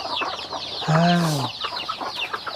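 A chicken clucks and calls near and clearly amid rural background chatter, with a person speaking briefly alongside the bird.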